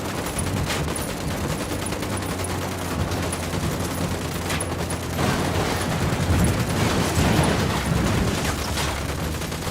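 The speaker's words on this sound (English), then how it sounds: "Stop fucking shooting, guys." Rifle fire from a squad firefight in Ghost Recon Wildlands crackles in scattered shots and rapid bursts, growing denser toward the end over a low background rumble.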